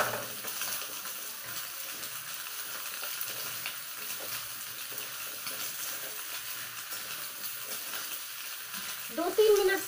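Soybean chunks fry in gravy over full heat, giving an even, moderate sizzle that continues throughout, with a brief louder scrape or stir near the end and no talking.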